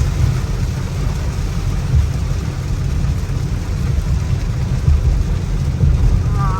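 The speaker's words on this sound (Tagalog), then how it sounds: "Lakas ng ulan guys" Steady heavy rain hisses and roars continuously, a dense even wash of sound with no pauses.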